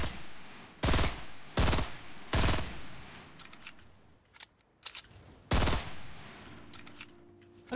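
Gunfire in Fortnite Battle Royale: several sharp, loud single shots spaced roughly a second apart, followed by quieter rapid crackling shots and a faint tonal game sound near the end.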